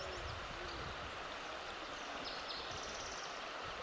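The Gila River current rushes in a steady, broad hiss of flowing water, faint and constant throughout with no pauses or voices.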